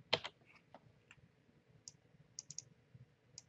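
Light keystrokes tap on a computer keyboard in a few scattered clusters, quiet and close against a faint background hum, with no one talking.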